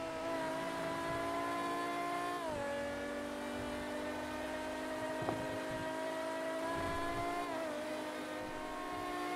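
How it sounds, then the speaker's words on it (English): Deep V12 car engine in a GTA RP video game, a steady loud drone with rising and falling revs and two clear gear shifts, playing alone without voices. "V12 engine."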